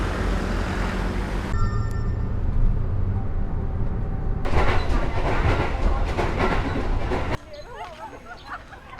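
A train rumbles and clatters along the rails, loud and close, with rhythmic rolling noise that drops to a quieter hum near the end.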